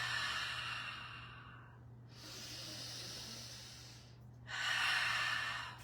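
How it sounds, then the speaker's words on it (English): Deep breaths during a breathing exercise, including exhales through the mouth: two long, soft, airy breaths close to the microphone with a short pause between them, over a faint low hum, no speech. "as we exhale through the mouth like we're fogging the mirror"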